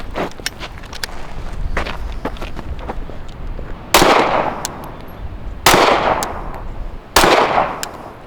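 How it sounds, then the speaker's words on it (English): Three loud gunshots from pistol or carbine target shooting practice, spaced a couple of seconds apart, each a sharp blast with a lingering tail, over faint outdoor background clatter. "Let me shoot a couple rounds."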